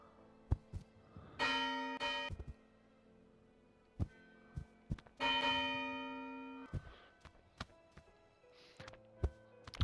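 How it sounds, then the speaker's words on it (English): Loud metallic bell in the game Human Fall Flat, struck twice with long ringing decays, mixed with scattered in-game thuds and taps between the strikes. "Ring the bell!"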